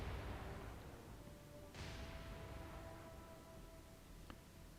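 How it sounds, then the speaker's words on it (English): Naval gunfire from a destroyer in the War on the Sea video game comes as a muffled, distant boom over a steady low rumble, followed later by a faint sharp crack. "She's engaging the rear Japanese destroyer with gunfire."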